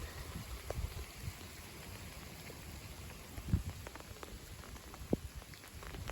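A cold spring shower of rain mixed with sleet patters down steadily and softly at a distance, with a few brief louder drops and thuds over a low, even hiss.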